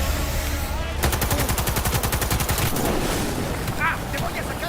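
Rapid automatic gunfire in Cyberpunk 2077, a dense burst of shots rattling steadily for about two seconds over low background rumble, with a brief voice exclamation near the end.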